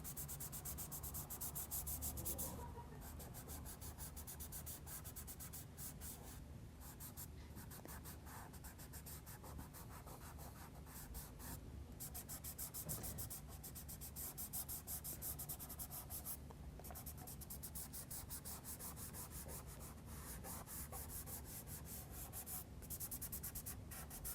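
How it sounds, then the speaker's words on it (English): A finger smudges Derwent XL graphite across paper in a steady, soft rubbing that runs close and continuous, with no talking. "So I use a finger here and just start smudging these background colour in."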